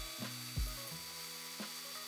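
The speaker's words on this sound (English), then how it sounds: "Next, I use my battery drill to remove the surface rust from the axles." A battery drill removing surface rust from the axles of a diecast Matchbox Volkswagen 1600TL toy car: a faint, steady motor whir with a few brief clicks and scrapes, with no voices.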